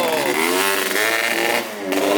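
A Ford 7.3 PowerStroke turbo diesel in a bus runs loud and close just after a cold start, its steady drone rising and falling in pitch with a brief dip near the end.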